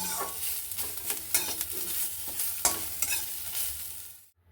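Dried chilli, onion, garlic, ginger and cumin fry in mustard oil, a steady close sizzle with sharp spattering crackles and stirring scrapes throughout, cutting off abruptly near the end.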